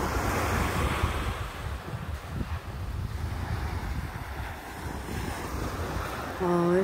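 Ocean waves wash onto a beach at dawn in a steady broad roar, with wind buffeting the microphone throughout and a brief voice near the end.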